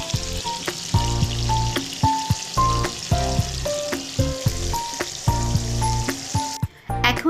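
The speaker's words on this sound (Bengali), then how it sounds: "এবার বাকি মাছগুলো ভেজে তুলে নেব।" Marinated hilsa fish pieces fry in hot oil with a steady, crackling sizzle that runs throughout, while melodic background music plays over it.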